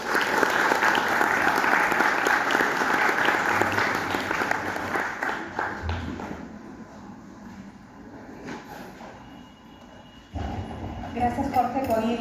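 An audience at a book presentation in Lima applauds to welcome a speaker, a dense, steady applause that gradually thins and fades over several seconds before a voice begins talking.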